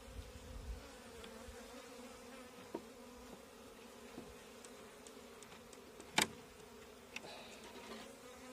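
Honey bees buzz around an open hive during an inspection, a faint, steady drone of many insects with a few soft clicks and one sharp knock.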